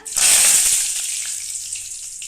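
Cinnamon, cloves and curry leaves hit hot oil with a loud, bright sizzle that bursts up at once and then settles to a steady frying hiss, close by and alone.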